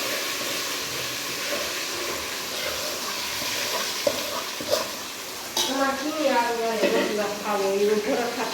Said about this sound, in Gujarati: વટાણી મસાલાને વઘારી નાખીએ